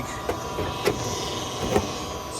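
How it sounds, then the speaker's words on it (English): A small, worn HVAC vent blower motor whirs steadily, with faint periodic clicks or knocks every second or so, close up and with no talking. "like the vent motor might be on its way out."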